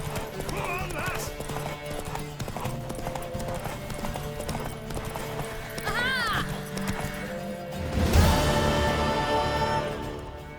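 Hoofbeats of a horse in The Witcher 3 clip-clop steadily over game music and voices, with a whinny and a louder rush of sound near the end.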